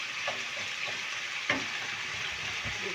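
Garlic sizzles steadily in a hot pan with a constant bright crackle, and a few soft stirring scrapes and knocks sound close by.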